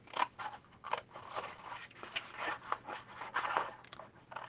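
Scissors cutting paper along a score line for a handmade photo album, a series of close, crisp snips and crunchy rustles in an uneven rhythm.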